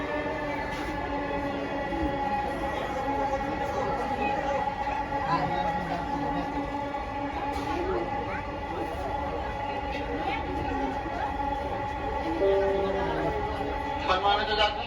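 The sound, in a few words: Dhaka metro rail train running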